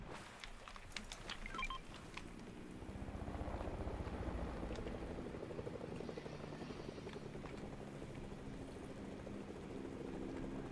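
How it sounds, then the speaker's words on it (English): A helicopter in a video game drones with a steady rotor throb, rising in loudness after the first couple of seconds and holding as a continuous low rumble with faint clicks early on. "Are we taking the helicopter now?"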